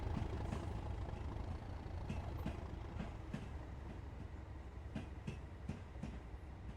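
In Train Sim World 3, a diesel locomotive drags an electric train, giving a steady rail rumble with repeated clickety-clack wheel beats over the track joints, at a moderate level and with no voices.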